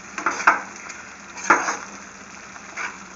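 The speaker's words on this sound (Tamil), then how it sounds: "நல்லா ஒரு 15 மினிட்ஸ் நல்லா கொதிக்க வைங்க." A ginger, tamarind and chilli thokku simmers in a pan with a soft, steady sizzle, while a spoon scrapes and stirs it in a few brief, close strokes.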